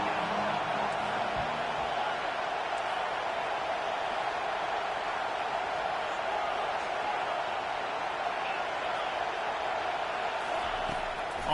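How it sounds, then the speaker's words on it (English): A home crowd roars loudly and steadily throughout a football stadium during a Ducks vs Miami game, forming a dense, unbroken wash of cheering noise with no single voice standing out. "how nice is it to have the home crowd going absolutely bananas?"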